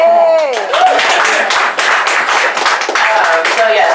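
Audience clapping for a man at a meeting with council members, a loud dense patter of hands running throughout, with voices and a cheer or shout over the start and again near the end.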